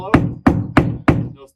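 Four evenly spaced knocks on a hollow section of exterior siding over plywood, with no stud behind, each a short, close, resonant rap that fades quickly.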